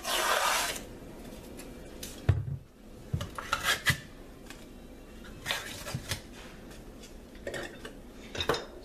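Creamy peanut butter being scooped into a measuring cup, with intermittent close scraping and clinking of a utensil against the cup in short bursts separated by quiet pauses.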